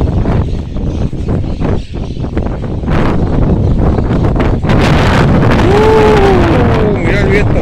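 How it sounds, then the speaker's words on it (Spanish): Strong south wind buffets the microphone in a loud, continuous roaring rumble that swells and gusts without pause, with a voice partly buried beneath it. "Mira el viento azul que hay. Se vuela hasta las palabras."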